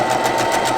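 A sewing machine runs steadily while back stitching a flour sack towel, a close, continuous mechanical whir with a fast motor hum and no pauses.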